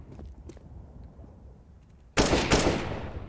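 Gunfire in Counter-Strike: Global Offensive: after a quiet stretch with faint clicks, a loud sudden burst of shots erupts close by and rings on to the end.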